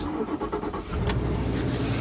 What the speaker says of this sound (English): let's do the old crank